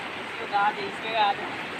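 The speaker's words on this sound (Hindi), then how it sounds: "और यहाँ पे साउंड ज़्यादा ना नदी की, तो पता नहीं आपको मेरी साउंड कैसे आ रही होगी।" A mountain river rushes loudly nearby, a steady, dense roar of water that fills the whole clip with no break.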